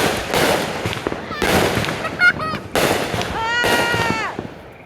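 July 4th fireworks exploding outdoors, repeated loud crackling bursts and booms in quick succession with whistling rockets rising between them, close and continuous.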